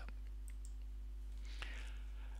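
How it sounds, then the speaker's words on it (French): A few faint, sparse key clicks on a Belkin Bluetooth keyboard paired with an iPad, isolated taps spaced apart over a quiet, low hum. "ici c'est un clavier Bluetooth type de marque Belkin, donc qui est bien reconnu"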